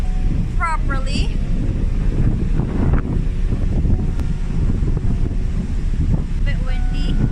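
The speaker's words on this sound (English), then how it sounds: "Bit windy." Steady, loud wind buffets the microphone outdoors at a garden, a continuous low rumble throughout with faint bird calls and brief voices over it.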